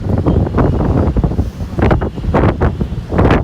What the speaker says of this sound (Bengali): এত বাতাস ও মাই গড অনেক বাতাস